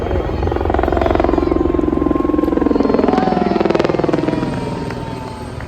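A helicopter's rotor thumps steadily overhead during a Giro d'Italia cycling race passing through Vittorio Veneto, loud and continuous, swelling slightly then easing as it passes.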